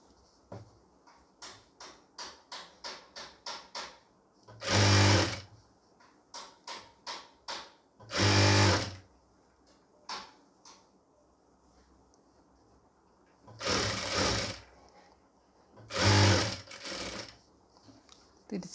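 Short bursts of sewing machine stitching attach a sleeve to a pleated nightie, with four loud runs separated by a series of light rhythmic clicks and quiet pauses.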